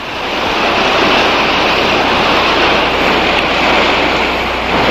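Ocean surf washing in steadily as the tide rises on a beach, a continuous broadband roar of breaking waves with some wind, close and loud without pauses.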